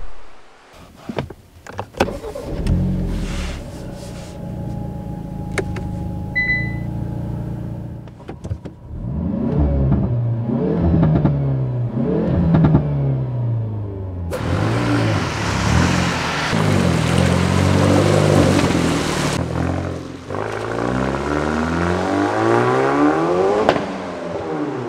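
A Hyundai i30N Performance SMN300 Limited Edition with a 300 PS engine and upgraded exhaust, heard with door and window sounds first, then the engine starting and revving in rising, sweeping pulls that grow louder toward the end.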